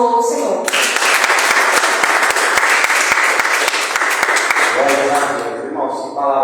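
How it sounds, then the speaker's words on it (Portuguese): A church congregation claps and applauds loudly for several seconds, a dense steady wash of hand claps with a few sharp individual claps, with a voice speaking just before and after. "as palmas ao Senhor"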